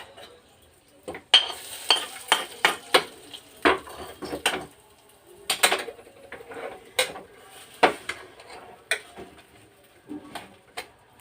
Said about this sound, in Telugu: ఒక స్పూన్ వేసి దానిలో కొన్ని జీడిపప్పులు వేయించి వేసుకుందాం